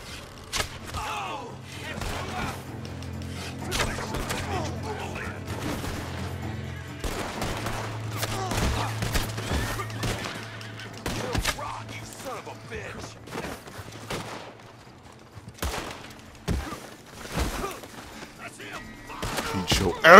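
Gunshots and mechanical clicks from Red Dead Redemption Online ring out as scattered sharp cracks over a low hum, sometimes in quick clusters, with a voice talking at times.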